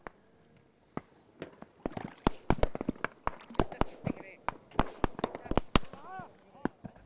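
Rapid shotgun blasts from hunters shooting at coots over water, some from boats and some from shore, firing in quick irregular bursts of loud sharp reports, some close and some farther off.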